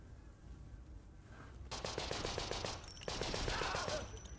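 Rapid gunfire bursts and explosions from a war video game, loud repeated rattling volleys that start suddenly after a quiet lead-in and continue over steady background noise.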